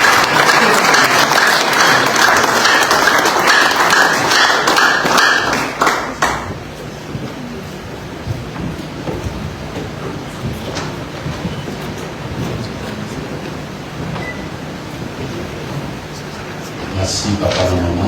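A church congregation at an ordination service applauds and cheers in acclaim, a loud dense burst that fades after several seconds into quieter murmuring and scattered sounds, with voices speaking.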